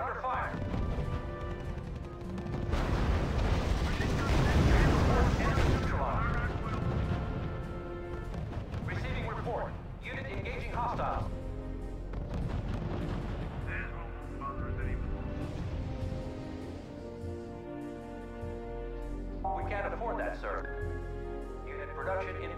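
Battle in the strategy game RUSE, with artillery booms and crashing gunfire swelling loudly early on, then scattered shots and impacts over a continuous low rumble, while radio-style voices speak throughout.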